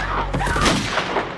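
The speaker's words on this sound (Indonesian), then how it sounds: "Karena panik, mereka pun melepaskan tembakan" Dense, rapid gunfire from a film scene where people shoot at an attacking dog, a loud burst of overlapping booming shots lasting the whole moment.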